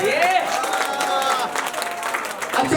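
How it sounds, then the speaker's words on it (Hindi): Audience clapping at the close of a Shrimad Bhagavat katha gathering in Bhayandar, a sustained wash of applause with an amplified voice and musical tones ringing over it. "भागवत में जिनको आनंद आया हो वो एक बार जोरदार हाथ खड़े करके ताली हो जाए"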